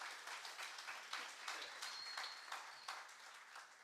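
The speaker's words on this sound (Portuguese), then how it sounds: "Aplauda a vida deles também" A church congregation applauds, a dense, even wash of many hands clapping heard from a distance, faint and sustained.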